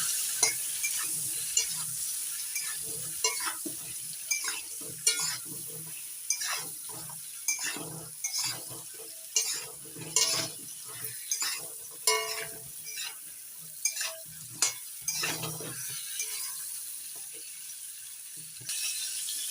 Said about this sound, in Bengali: এবার নাড়াচাড়া করে হালকা লালচে করে ভেজে নেব